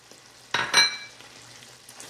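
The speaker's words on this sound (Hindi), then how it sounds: "अब हम इसके अंदर तकरीबन 2 चम्मच दही डालेंगे" Spoonfuls of yogurt hit a hot pan of lamb achar masala that has been fried down, setting off two quick loud bursts of sizzling that settle into a low, steady fry.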